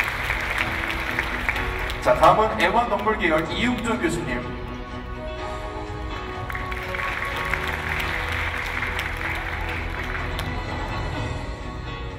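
Audience applause at a 2017 entrance ceremony and pop-culture arts award presentation at the Seoul School of Integrated Arts, a continuous bed of clapping running under a host's amplified announcement.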